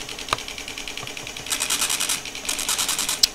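An Epson M-190 dot matrix printer driven by an Arduino prints in rapid buzzing bursts, a sharp click first, then two loud rattling passes of the print head separated by a short pause, close and clear with no talking.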